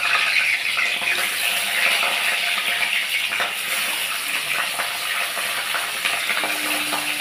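Papda fish fry in hot mustard oil with a loud, continuous sizzle and bubbling, broken by occasional scraping, stirring-like sounds throughout.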